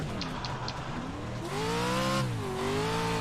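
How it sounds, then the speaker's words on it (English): A Pro4 off-road racing truck engine in a video game revs hard up to the limiter, a loud continuous roar whose pitch climbs, holds and wavers, heard alone. "So just rev it really hard, hit the limiter"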